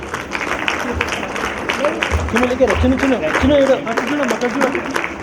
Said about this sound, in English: Parents, applause.